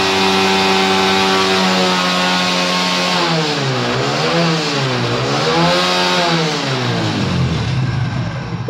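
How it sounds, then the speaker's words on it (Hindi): A Hero Splendor motorcycle, just fitted with a new clutch plate, is revved hard at full throttle up close, its engine note rising and falling in repeated surging swells before dropping back toward idle. "ये देखो फुल स्पीड में दे रहा हूँ"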